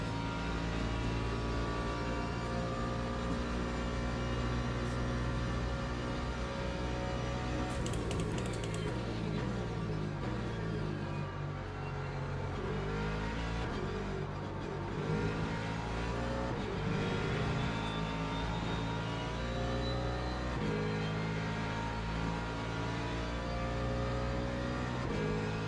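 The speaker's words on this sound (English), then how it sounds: "There goes a hypercar." Hypercar racing at the Interlagos circuit, a loud continuous engine roar with shifting revs and layered harmonics that swells and bends as it passes, with no talk.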